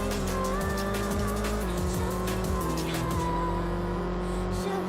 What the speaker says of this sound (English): Y'all want to hear the engine?